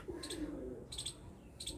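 High flyer pigeons cooing softly in short bursts with faint chirps, a quiet close-up bird sound with no talk.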